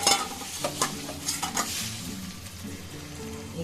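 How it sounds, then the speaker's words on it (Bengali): Fried bitter gourd pieces go into a hot pan of prepared spice paste with a little warm water, giving a steady sizzle and bubbling under a few scraping stirs of a utensil. "আমি এই উচ্ছে ভাজাগুলো এখন দিয়ে দেবো এখানে।"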